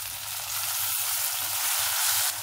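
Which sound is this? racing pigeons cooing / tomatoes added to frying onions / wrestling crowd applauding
tomatoes added to frying onions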